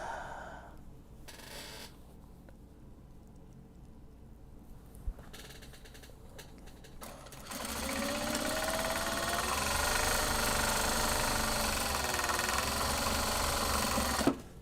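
A sewing machine stitching fabric drawstring bags, starting quiet with scattered handling noises, then running in a long continuous mechanical whir with a fast stitching rhythm, close and steady until it stops abruptly.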